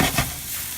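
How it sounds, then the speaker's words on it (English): Pork with olives sizzles in a frying pan, a short burst of crackling and hissing with stirring scrapes, close and fairly loud. "Listen, I hear the sizzle."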